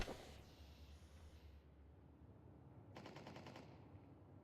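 AK rifle fire in a Counter-Strike match comes as a quick, faint burst of rapid shots amid low background game noise.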